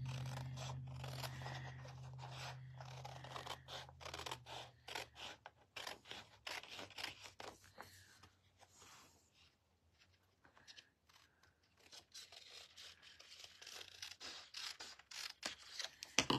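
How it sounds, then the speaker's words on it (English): Scissors snip and scrape through card paper while fussy cutting around the shape of a flap for a stamped card, a close, quiet run of irregular crisp cuts and rustles with a brief lull midway. "And then I just follow the shape of the flap. This is known as fussy cutting."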